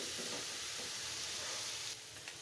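Raw papaya with shrimp, onion and green chilies fries in a pan, giving a soft, steady sizzle and hiss. It is faint and continuous and eases slightly toward the end.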